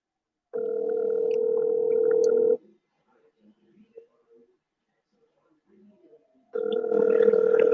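A phone call rings out through a speaker as a steady, fairly loud ringback tone, one long tone of about two seconds, a pause, then the tone starts again.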